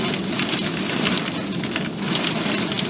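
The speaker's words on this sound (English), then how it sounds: "Oh my word, this storm is crazy." Heavy rain pours down during a violent summer thunderstorm, a dense continuous hiss of drops drumming on surfaces with gusty swells, loud and close with no talking.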